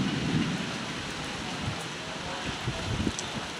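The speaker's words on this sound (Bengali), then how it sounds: "বজ্রপাত পড়ছে দেখতে পাচ্ছি" Steady rain pours during a thunderstorm outside, with low rumbles of thunder rolling through the wash of drops and wind at a moderate, even level.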